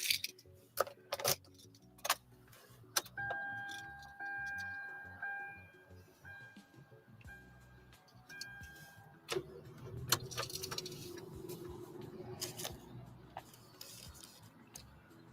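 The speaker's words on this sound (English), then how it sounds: "we're going to do an engine startup sequence" A Hyundai Elantra starts up: faint clicks and a dashboard chime come first, then a soft, low engine idle settles in quietly, with a few light taps on top.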